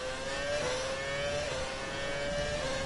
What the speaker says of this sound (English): you can probably hear from the engine that it's actually nice